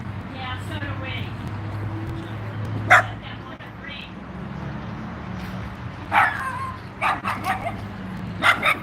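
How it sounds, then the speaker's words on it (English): A guard dog barks in short bursts around people talking over a livestream, its yips and woofs loud and close at moments, with conversation and background chatter continuing throughout. "Oh, it's a vicious guard dog."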